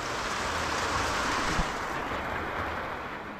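Steady rain hisses softly and evenly, a continuous wash of falling water with no voices.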